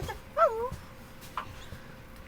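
A puppy whimpers once in a brief, high, wavering whine indoors, followed by a few faint soft sounds in a quiet room.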